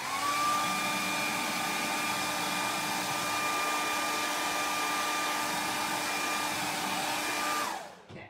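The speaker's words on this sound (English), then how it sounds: "I'm going to use my blow dryer just to speed up this process." A handheld blow dryer runs continuously to dry freshly brushed paint, a steady loud whir with a faint tonal whine that cuts off near the end.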